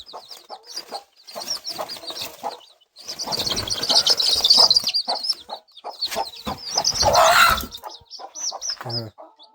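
A hen with small chicks clucks in a village yard on an early morning, with repeated close clucks alongside high thin chick peeps and chirps, and a person speaks briefly in the background.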